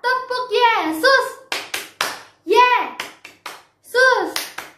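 Children at a Sunday school church service chant the Tepuk Yesus clapping rhyme, sharp rhythmic hand claps interleaved with bright young voices calling out in short bursts, close and lively.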